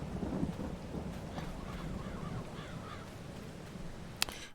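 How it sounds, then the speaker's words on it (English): Rain and rolling thunder in Farming Simulator 22, a soft continuous patter with low distant rumbles and one sharp crack near the end, heard alone with no talk. "Let's take a look at the weather forecast and see when the rain is going to stop."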